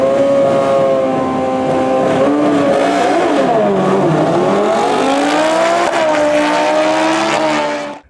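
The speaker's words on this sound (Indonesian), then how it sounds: "Wow, lihat teman-teman, di sini ada motor balap." A toy racing motorcycle's engine sound revs loud and continuous for about eight seconds, its pitch rising, dipping and climbing again in a whining, buzzy drone before cutting off abruptly at the end.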